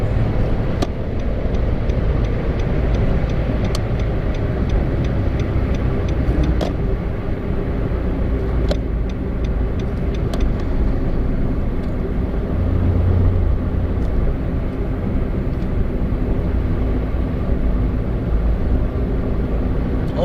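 Steady engine and road noise from inside a moving Nissan March 1.2 with a remapped ECU on a highway, a constant low rumble with occasional faint clicks, no talking.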